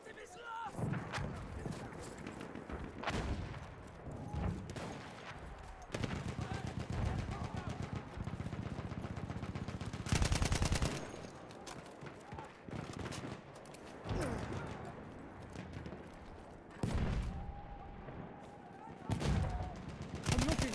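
Sustained gunfire bursts in the Battlefield 1 shooter game, including BAR and machine gun fire, rattling in dense volleys over battlefield noise with explosions, loud and close throughout.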